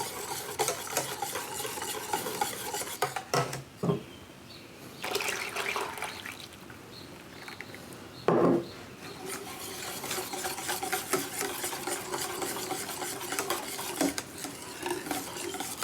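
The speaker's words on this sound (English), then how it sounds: "whisk it in" A whisk stirs a peanut butter and jelly moonshine mixture in a bowl, giving continuous wet swishing and scraping with a few sharper clinks against the side, close and steady for several seconds.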